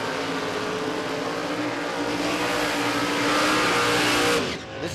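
Supercharged Holden EH and a small Calibra in Top Sportsman drag racing at Willowbank Raceway, engines roaring loud and steady at the launch and building to a peak before cutting off near the end.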